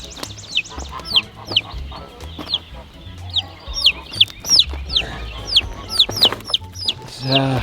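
Chickens cluck and squawk close by around a backyard coop, with sharp excited calls and busy scuffling at uneven intervals, quite loud and lively throughout.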